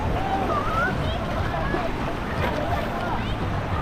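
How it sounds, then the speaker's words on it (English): Continuous rushing wash of breaking waves in an outdoor surf wave pool, steady and fairly loud, with faint voices in the background. "Not huge waves."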